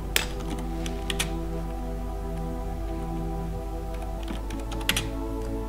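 A few sparse keystrokes on a computer keyboard as a command is entered in Rhino 3D software, with short clicks near the start and again near the end over a steady low hum, no talking.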